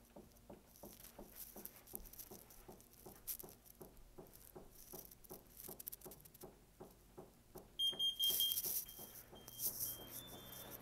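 A Notifier smoke detector on a sounder base goes into alarm during a gas test on an AFP 200 panel. Rhythmic ticking and patter come first, then sharp, loud high beeps burst in near the end in a temporal-4 pattern.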